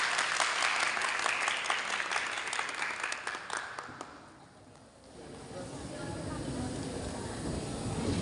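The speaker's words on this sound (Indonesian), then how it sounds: "beri tepuk tangan yang" An audience at a Quran recitation competition claps in a dense burst that fades out midway, then a quieter crowd hubbub returns, with talk mixed in.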